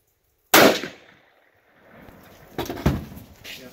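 A rifle fires once at a deer camp, a sharp, loud crack that decays quickly, followed a couple of seconds later by fainter clatter and handling noises.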